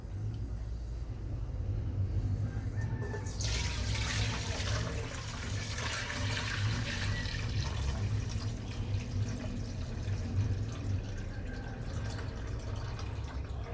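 Boiled rice is poured out and rinsed under running water in a kitchen. A soft rush swells into a steady, fairly close stream of splashing water that continues to the end.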